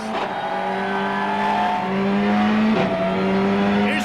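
Colin McRae's Ford Focus WRC rally car, fitted with a paddle shifter, roars under load at the 2002 Rallye Deutschland, engine note holding steady then dropping sharply on a quick downshift before climbing again, close and loud.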